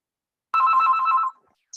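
A telephone bell rings once in a short, loud burst during a community board meeting, then stops abruptly, with a faint trace of another ring starting at the very end.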